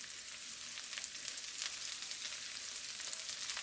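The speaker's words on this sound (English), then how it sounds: "these have been sauteing for about 5 minutes" Brussels sprouts sauté in a Staub Everything Pan after about five minutes on the heat, giving a steady, close, bright sizzle that crackles on with no talking.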